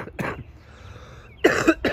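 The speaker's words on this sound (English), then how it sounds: "Excuse my cough." A person with a lingering chest cold coughs in a couple of sharp bursts near the start, then two more harsh coughs close together toward the end, loud and close.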